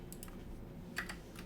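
Several quick, faint keystrokes on a custom 75% mechanical keyboard tap out in a brief, uneven burst, with a slightly sharper click near the end and no voices.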